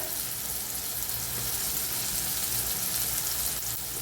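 Tomatoes fry in a pan with red chilli powder while masala brinjal is being made: a dense, continuous sizzle that stays close and steady, with faint stirring underneath.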